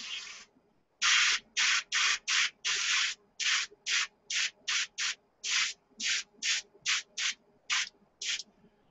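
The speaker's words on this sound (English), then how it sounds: "just be careful of the spray pattern or where you point the airbrush" Short airbrush bursts spray paint onto a Tamiya 1:72 SU-34 model aircraft, about sixteen hissing puffs in steady rhythm after an opening spray, each close and clear with brief quiet gaps.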